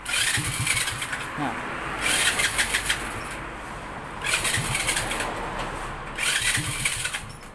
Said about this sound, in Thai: ผมกดสตาร์ทมือนะครับ เห็นไหมครับติดนะครับ